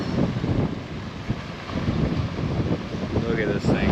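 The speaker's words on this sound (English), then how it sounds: "It's very windy here." Strong wind buffets the microphone on the coast of Amorgos, a rough, gusty roar with sea noise beneath, while a voice speaks briefly near the end.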